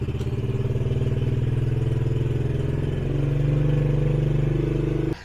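A Honda 110 pit bike engine, on half choke, runs with a steady low-pitched putter close by, holding a near-constant idle throughout before cutting off abruptly at the end.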